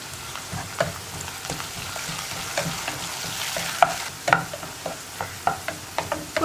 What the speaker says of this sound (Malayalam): ഇപ്പോൾ നമ്മുടെ ഇഞ്ചിയും വെളുത്തുള്ളിയൊക്കെ ഒന്ന് കുക്കായി തുടങ്ങുന്നുണ്ട്